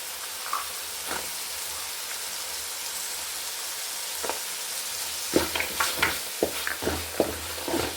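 Green peas tossed into a pan of frying seasoning for palak rice, a soft steady sizzle broken by scattered clinks and scraping stirs that grow busier toward the end, with no voices.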